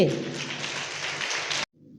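Audience clapping at a women's church rally in a Lutheran church, a dense wash of applause lasting about a second and a half before cutting off abruptly, with faint room murmur after.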